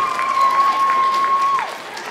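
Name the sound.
audience applause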